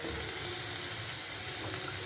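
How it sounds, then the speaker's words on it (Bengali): Grated ginger and garlic frying in a pan, a steady, dense, bright hiss that holds evenly throughout with no breaks or voices. "আদা রসুনটা দিয়ে ভালো করে একটু ভাজা ভাজা করে নেব"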